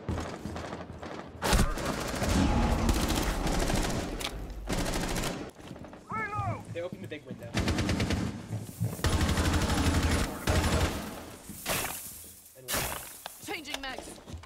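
Rapid gunfire from Rainbow Six Siege, loud and close, coming in several bursts that repeat through the round, mixed with game sounds and a voice talking over parts of it.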